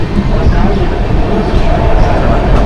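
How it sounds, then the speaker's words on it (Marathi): A train pulling out of Karjat station in the evening makes a loud, continuous rumble and clatter that stays steady and close throughout. "ट्रेन आता कर्जत स्टेशनवरून सुटली आहे बघा"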